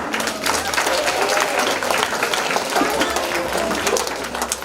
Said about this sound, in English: Let's invite Mrs. Bogwa with a clap